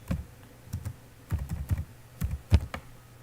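Keystrokes on a computer keyboard as a URL is entered into a Chrome browser, close and fairly quiet, coming in irregular bursts of clicks with short pauses between them.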